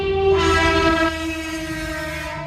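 A passing train sounds a loud, sustained horn with steady tones and rumbling underneath for the whole stretch, close by, with no voices.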